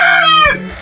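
A single rooster crow, loud and close, with a bright harmonic call that rises and then trails off abruptly.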